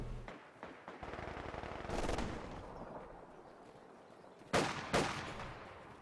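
Rapid light machine gun fire in a real-time strategy battle, dense rattling bursts layered over continuous game combat noise, with two sharper loud bursts near the end.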